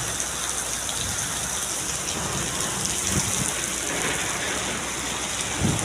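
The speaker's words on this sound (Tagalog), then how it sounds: "magtataglamig na dito sa Riyadh mga guys oh lakas ng ulan" Heavy rain pours steadily in Riyadh, a dense continuous hiss with a few low rumbles, loud and close throughout with no talking.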